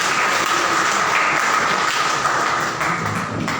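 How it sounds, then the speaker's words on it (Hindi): An audience claps together at a Hindi-language gathering, a dense, steady wash of applause lasting the whole stretch at a fairly loud, even level with no voices over it. "सब लोग मिलकर सबके लिए ताली बजा देते हैं एक बार जोर से।"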